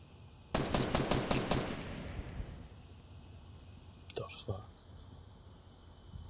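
Rapid bursts of video game gunfire rattle off as a loud fast volley, then fade, followed by two sharper cracks of sniper shots a few seconds later.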